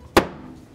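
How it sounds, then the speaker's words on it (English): A hammer strikes once on wood during work on a guitar back, a single sharp, close knock that fades quickly. "Here's my hammer."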